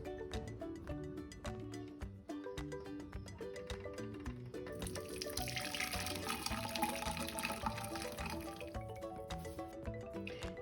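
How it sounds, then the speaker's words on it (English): A cooled mixture of flowers stewed in water is tipped through a kitchen sieve, making a soft, rushing pour under steady background music. The pour swells in about halfway through and keeps running to the end. "tip your mixture through your sieve to strain away all your flowers"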